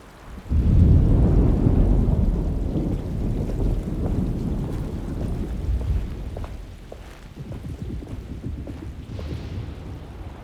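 A thunderstorm in the video game Alone in the Dark: a deep, loud rumble of thunder rolls in and slowly fades under steady rain and wind, with sharper crackles later.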